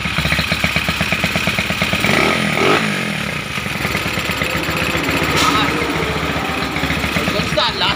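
A TMX 155 motorcycle fitted with a 63mm big bore and an OKO carburetor runs loudly and close by, its engine buzzing steadily with a few revs in the middle and near the end.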